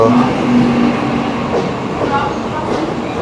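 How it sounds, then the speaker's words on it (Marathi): A train at a station rumbles steadily and loudly throughout, a continuous rail roar with people talking over it. "चला ट्रेन पकडूया, नंतर बोलू."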